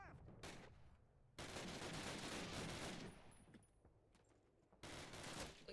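Dense full-auto FG-42 fire in the WWII shooter Call of Duty (2003), loud sustained bursts in two long stretches with a quieter gap of distant battle noise between them.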